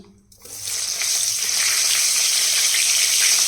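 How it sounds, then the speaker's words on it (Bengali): Tangra fish drop into hot oil and start frying, a sudden hiss that swells after a brief quiet moment into a steady, close sizzle filling the rest of the clip. "তেল গরম হয়ে গেছে ভেজে নি"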